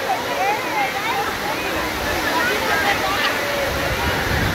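Heavy rain downpour pouring outdoors in Xochihuehuetlán, Guerrero, a dense continuous roar of water close to the microphone with a voice speaking faintly underneath.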